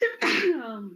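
A single sharp sneeze bursts out in a lecture setting, close and loud, followed by a short spoken response over the tail.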